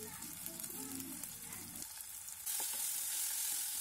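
Chopped onion and tomato sautéing in oil in a pan, a steady close sizzle with spoon scrapes, swelling louder after a brief stir partway through.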